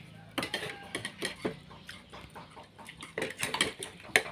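Spoons clink together at a Thai home meal of red-ant-egg curry and fried food, a run of light metallic taps and scrapes scattered over a few seconds, fairly close, with faint voices around.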